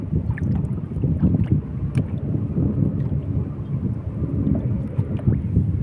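Steady gusting wind roars out on the open sea during a fishing trip, a low buffeting rumble against the microphone with faint splashing water underneath, no voices.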